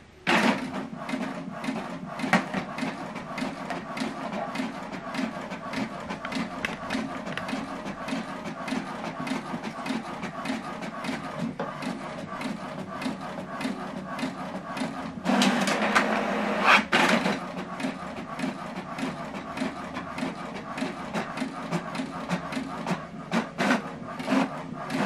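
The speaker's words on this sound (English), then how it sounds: "Now this document is printing out." An HP printer runs a print job, its steady mechanical whirring and clicking feed continuing throughout, with a louder burst of paper movement partway through.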